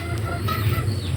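Chickens cluck in a rural yard, a few short calls close by over steady low background hum, with no talking.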